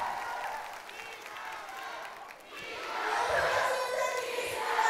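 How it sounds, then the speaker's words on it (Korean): A concert crowd applauds and cheers for the band, a dense roaring wash of clapping and shouting that swells louder toward the end, with voices mixed in. "그리고 우리 밴드팀한테도 박수 부탁드릴게요."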